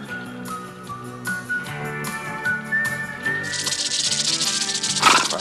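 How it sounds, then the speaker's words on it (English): A snake hisses in the 1991 Italian-American western Lucky Luke, a broad, loud rush that rises over the film's music in the last couple of seconds. "I hate snakes."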